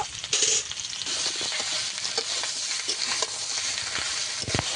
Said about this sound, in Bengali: আলু কচু আদা ভালো করে একটু কষিয়ে নিয়েছি।